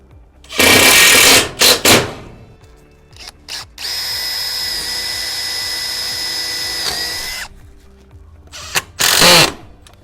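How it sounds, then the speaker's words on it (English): A power drill bites through a metal roller door track in short bursts, then whines steadily for a few seconds before a couple more quick bursts, loud and close. "So when you drill a hole, make sure you're away from the door itself."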